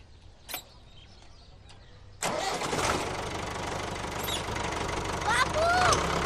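A tractor engine cranks and catches abruptly partway through, then settles into a loud, steady mid-pitched running rumble on a farm, after a quiet stretch with faint background sounds and a brief tonal call near the end.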